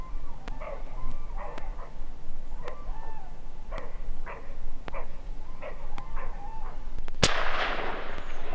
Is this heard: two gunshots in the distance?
yes